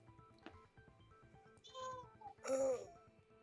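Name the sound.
pet cat meowing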